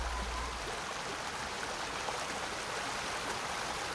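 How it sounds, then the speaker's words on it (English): Steady broadband rush of flowing water, like a stream or small waterfall, continuous and fairly close with no other sounds. "Even the tiny beat of moth wings can be filtered out from the sound of rushing water."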